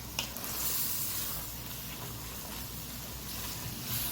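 Chili meat seasoned with everything bagel seasoning and Goya sazon stirred in a pan with a wooden spoon, a steady low sizzle with soft scraping and squishing movements, close and fairly quiet.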